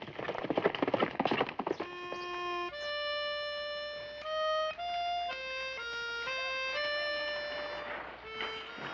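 Horse hooves clip-clopping in a 1961 Western film scene, heard as a short burst of clattering beats at the start before sustained melodic musical tones take over.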